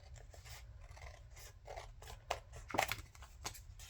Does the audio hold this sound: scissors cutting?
yes